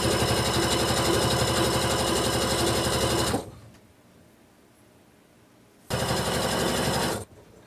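A sewing machine stitches fabric for a boxed-edge couch cushion cover, running in a fast, loud, rapid mechanical chatter, pausing for a few seconds, then running again in a shorter burst.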